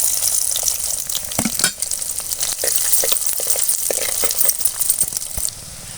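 Steady crackling sizzle of chopped onion and garlic frying in hot oil, with scattered pops and the occasional clink of a spoon stirring, close and fairly loud.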